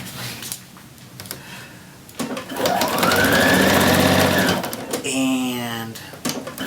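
A sewing machine back stitching a shirt seam runs in a steady mechanical whir for several seconds, stopping and restarting with short bursts, close and fairly loud, with a voice talking over parts of it.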